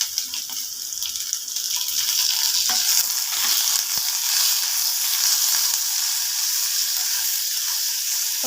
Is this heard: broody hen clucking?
no